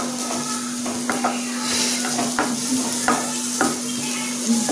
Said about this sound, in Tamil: ஆனியனை நல்லா ஃப்ரை பண்ணுறா